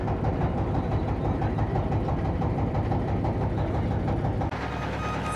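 A motor boat engine drones steadily on the Padma river by a char, a loud continuous low rumble with a slight shift near the end and no talking.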